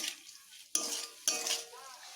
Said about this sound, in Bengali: এবার এটিকে একটু কষিয়ে নেব